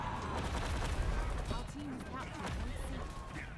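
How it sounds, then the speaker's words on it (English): Cannon fire during a siege battle in the video game Conqueror's Blade, heavy booms and crashes rolling through a dense battlefield din, with someone talking over the top throughout. "I keep getting hit by cannons."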